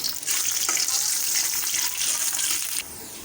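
Onions dropped into hot oil in a wok on a stove, hissing in a steady bright sizzle that cuts off abruptly near the end.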